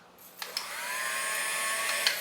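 Electric hand mixer whirring in a mixing bowl of ingredients, a steady high-pitched motor hum that starts up and holds, close, with small clicks and knocks against the bowl.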